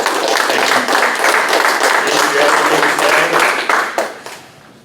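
A small crowd at a Republican mayoral forum claps, scattered hand claps at moderate level that thin out and fade to quiet by the end.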